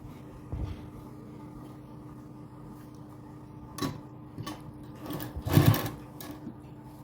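A sewing machine stitches lace onto a fabric strip, giving a steady low running hum with a faint periodic ticking. Louder clicks and knocks mark handling of the fabric near the middle and end.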